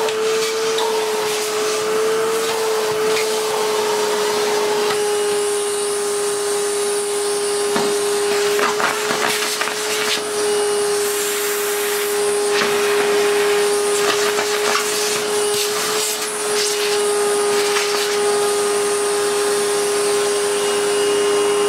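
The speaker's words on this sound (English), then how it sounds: "We'll try and give it a vacuum." A vacuum cleaner runs steadily and loudly throughout, its hose cleaning the dirty filter of an Electrolux Filtaire 1600W canister vacuum. The sound is a constant whining drone with a strong hum and some rattling fluctuations, and no talk.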